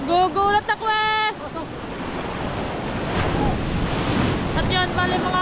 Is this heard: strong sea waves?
yes